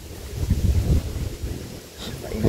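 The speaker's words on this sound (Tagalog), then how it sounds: "Yung hangin ba? Maginaw." Cold wind gusting outdoors, a low rumbling rush buffeting the microphone in uneven surges, with no talk in it.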